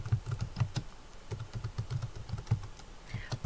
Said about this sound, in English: put your caps lock on, and type in telephone numbers